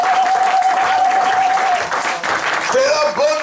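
A church congregation applauds steadily and loudly at an Easter service. A sustained, sung or cheered tone rides over the dense clapping, and voices are audible among the crowd.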